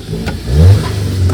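A new Bentley fitted with Falcon rims and tyres revs its engine in a loud, close low-pitched surge that swells and then settles back, with no talk over it.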